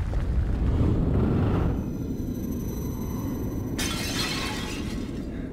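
Clay pots shattering inside a creepy catacomb area in The Evil Within horror video game, a loud burst of breaking crockery and debris that fades into a low rumbling tail.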